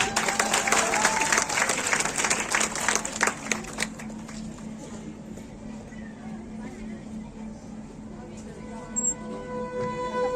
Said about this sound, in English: Please welcome them a big round of applause.